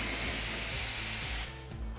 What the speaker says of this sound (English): get ready for the pneumatic compressed air, and then you're able to clean up your area